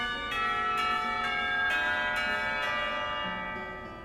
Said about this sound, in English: The lunch bell rings,